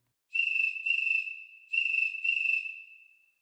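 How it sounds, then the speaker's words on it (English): A toy phone app's fast cricket plays four rapid bursts of high, thin chirping with a long, echoing canyon-style reverb tail, clear and alone against silence. "And the fast Grand Canyon cricket, like Calvin is hiding somewhere in the Grand Canyon."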